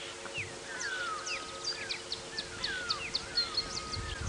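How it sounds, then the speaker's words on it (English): Red-billed buffalo weavers call and chatter in bursts of sharp, chirpy notes over a low, steady outdoor rumble during a sunrise safari drive. "Red-billed buffalo weavers."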